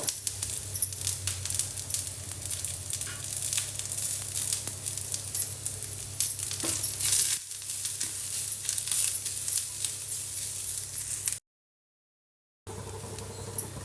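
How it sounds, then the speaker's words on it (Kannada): Fresh coconut, garlic and tamarind roast in oil in a pan with a steady, close sizzle and light stirring, a low hum underneath and a brief gap near the end. "ಸ್ವಲ್ಪ ಹುಣ್ಸೆಹಣ್ಣ ತೊಗೊಂಡಿದ್ದೀನಿ ಇದನ್ನು ಅಷ್ಟೇ ಚೆನ್ನಾಗಿ ರೋಸ್ಟ್ ಮಾಡ್ಕೊಳ್ಳಿ"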